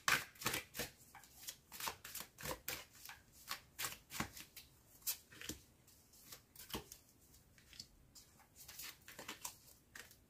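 Tarot cards being shuffled by hand, a steady run of crisp riffling flicks and soft slaps repeating close up for about ten seconds, with no voices.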